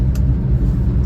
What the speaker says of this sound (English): the truck is increasing in speed up a steep hill